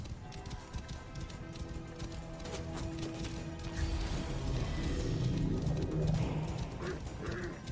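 Birds in the Egyptian setting of the game Assassin's Creed Origins, heard as soft cooing and scattered calls over a steady ambient game soundscape with footsteps, no talking.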